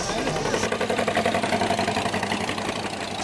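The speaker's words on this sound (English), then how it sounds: "1960 Case 730 diesel Case-O-Matic." A 1960 Case 730 diesel tractor with Case-O-Matic drive idles steadily at close range, a continuous low rumbling chug with even mechanical pulsing throughout, recorded outdoors at an antique tractor parade.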